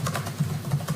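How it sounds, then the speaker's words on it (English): Fast typing on a clicky mechanical computer keyboard in a courtroom, a rapid run of crisp keystrokes heard close with no talking. "The judge has a very clicky keyboard."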